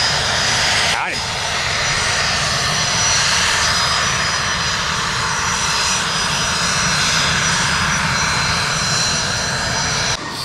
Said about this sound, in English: Ooh, nice looking Bombardier Challenger 604.